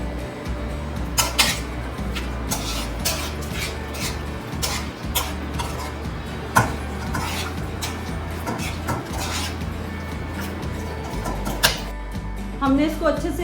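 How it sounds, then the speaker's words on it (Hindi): Chicken marinating for biryani, lemon, spices and orange colour among the ingredients, is stirred in a bowl with a spoon, making repeated clinking and scraping knocks over a low hum. "अब हम इसको अच्छे से मिक्स कर लेते हैं।"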